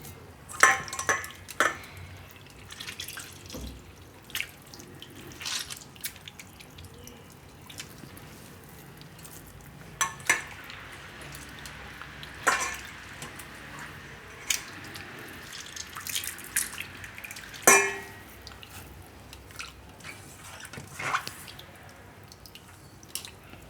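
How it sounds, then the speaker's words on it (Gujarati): Soaked soya chunks squeezed by hand in a home kitchen, releasing scattered soft drips and splashes of water at irregular intervals, close and fairly quiet with no talk. "તો હવે આને આપણે દબાવીને એનું પાણી કાઢી નાખીશું આ રીતે."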